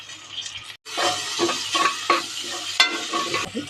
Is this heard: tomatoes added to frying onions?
yes